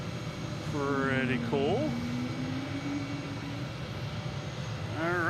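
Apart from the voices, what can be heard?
airplane taxiing at Boston Logan airport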